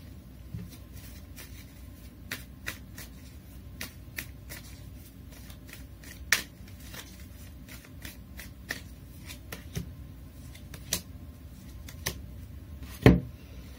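Tarot cards being shuffled and drawn at a reading, giving a soft continuous riffling rustle broken by sharp card snaps and slaps, the loudest near the end, close and quiet with no talking.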